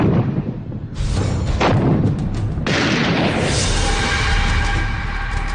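Artillery shells boom in a war sound effect evoking the Kargil border war: a loud, dense barrage of heavy blasts and rumbling echoes, rising sharply after a short opening.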